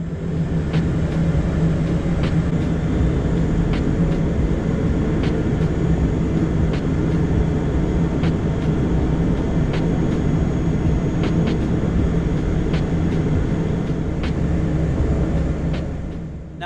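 An Air North airliner taxiing to runway 11 at Darwin, heard from inside the cabin as a steady, loud, unbroken engine rumble and air roar with faint ticking clicks throughout.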